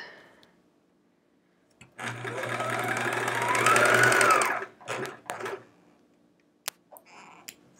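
A sewing machine stitches quilt scraps into chevrons, running in one sustained whirring burst of about three seconds, then several short stitching bursts and a few clicks as the fabric is lined up, close and alone.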